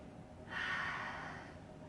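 A single deep breath during a slow yoga flow, a soft airy inhale swelling for about a second and fading out, close and alone.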